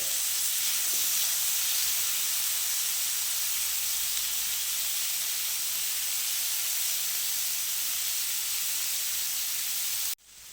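Chicken pieces pan-roasting until brown on both sides for butter chicken give a steady, close, unbroken sizzling hiss that runs evenly throughout and stops abruptly at the very end.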